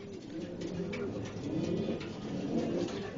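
Several racing pigeons coo softly and repeatedly nearby, their low rolling calls overlapping against a steady background hum.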